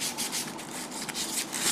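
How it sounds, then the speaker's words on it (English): Sandpaper rubbed gently over a rough spot on a wooden wagon wheel rim, a steady close scratchy rasp with rhythmic strokes and no speech. "take some sandpaper and very gently just take your time and go around it and sand off"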